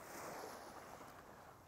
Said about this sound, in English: and then of course the waves coming in